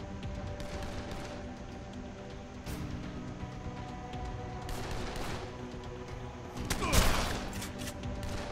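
Shotgun blasts in the zombie game Dead Island echo among dense, continuous gunfire and game noise. One louder, sharper shot stands out near the end.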